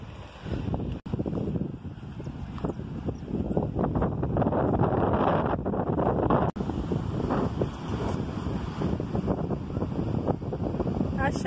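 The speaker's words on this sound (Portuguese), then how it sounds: "o vento tá forte aqui, tá? Então, barulho do vento, desculpa aí" Heavy wind at a beach buffets the microphone in a constant low roar, with a person speaking underneath and a couple of brief dropouts.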